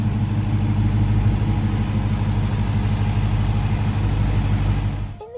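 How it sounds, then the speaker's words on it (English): A 2023 Dodge Challenger R/T engine running at a steady, loud, close idle with a deep rumbling drone, cutting off abruptly at the very end. "I'll give you a quick peek here at the engine while it's running"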